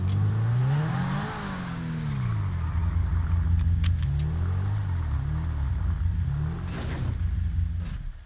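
A car engine in a GTA roleplay game, loud and close, revving up and down in repeated wavering swells with a deep rumbling undertone throughout, no talking over it.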